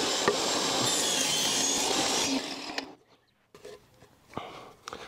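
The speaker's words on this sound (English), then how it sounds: "So let's go ahead and cut the 13 inches first." A piece is cut for a homemade disc golf cart, with a loud, steady rasping cut lasting about three seconds that stops abruptly, followed by a few quiet knocks and scrapes.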